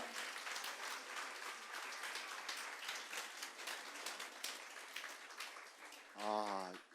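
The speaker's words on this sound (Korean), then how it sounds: "우리 선교사님 나오실 때까지 뜨거운 박수로 우리 모시도록 하겠습니다" A church middle-school worship audience gives warm applause to welcome a missionary speaker, a dense sustained clapping that fades near the end before a brief voice.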